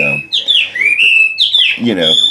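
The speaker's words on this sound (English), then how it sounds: "my fucking birds are so fucking loud" Loud, shrill pet bird chirps and whistling calls close by indoors, rising and falling in quick bursts.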